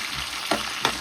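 Onions, curry leaves and pandan leaves frying in a pan for a Tamil fish curry, a steady close sizzle with two brief scraping stir strokes, no talking.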